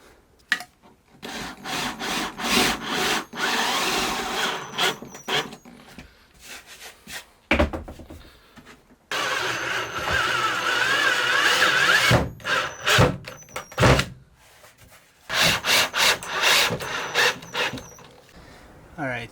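A power drill whirs in repeated bursts, driving 1.25-inch self-tapping screws into 1/2-inch plywood with grinding, rasping noise, pausing briefly between each screw.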